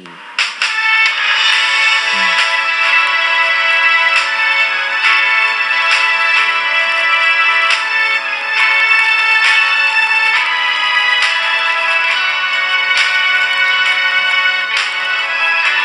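A bright tinkling melody, a Thai school song, plays steadily from FlipAlbum software, thin and tinny like a ringtone-style tune, continuous with no voices.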